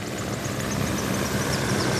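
A British military helicopter hovers over the Indian Ocean near a surfaced submarine during a training exercise, its steady rotor and engine roar filling the air as a constant, moderately loud wash with no talk.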